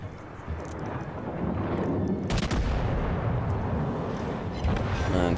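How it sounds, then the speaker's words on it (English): The battleship Texas fires a gun salvo in World of Warships Legends: a sustained booming roar of naval artillery with a sharp burst of cracks midway, loud and dense, no voices. "And manage to finish him off with that salvo"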